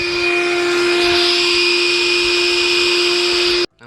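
A Black & Decker Dustbuster PD1200AV 12V car vacuum cleaner runs with a loud, steady whine and a fixed motor tone for several seconds, then cuts off abruptly near the end.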